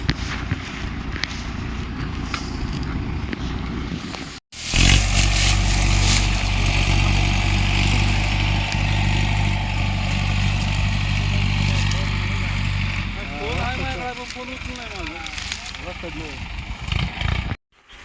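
A sugarcane-hauling tractor's engine drones steadily at close range with a low, even hum, under wind buffeting and people talking nearby.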